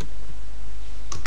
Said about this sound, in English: I'm gonna type in.